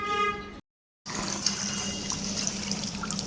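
Tap water running steadily while house plants are rinsed, with a brief clink, a moment of silence, then a continuous splashing flow close by.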